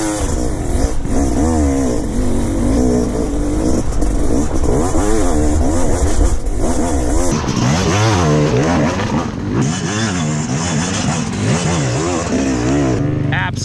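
An off-road motorcycle climbs a hill, its engine revving and surging loudly and close with rising and falling pitch throughout, while a voice talks over the engine noise.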